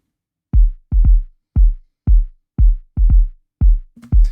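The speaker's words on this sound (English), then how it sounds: "The kick is subby, it's mellow, it doesn't have a lot of punch" A deep, subby kick drum thumping in a loose rhythm, each hit soft and rounded with little attack, repeated about a dozen times.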